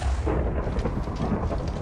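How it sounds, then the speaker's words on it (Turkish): A lightning bolt summoned by command in Minecraft strikes with a loud, dense crackling rumble that fills the whole short moment without letup. "Hani hayal edin yıldırım çaktıracaksınız."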